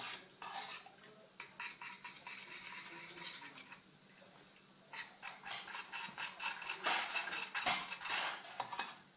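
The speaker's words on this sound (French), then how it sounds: "Je vais bien délayer pour que ça fonde." A spoon stirs peanut butter into hot cream in a pot, producing close, rhythmic metallic scraping and clinking against the sides that grows livelier toward the end.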